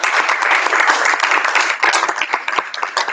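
An event audience gives a dense, continuous round of clapping for the sponsors, loud and close with no talk over it.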